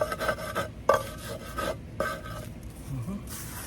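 Eggshells ground with an improvised stone grinder for a garden calcium hack, a series of short raspy rubbing strokes in a rough rhythm, close and fairly quiet, with no voices.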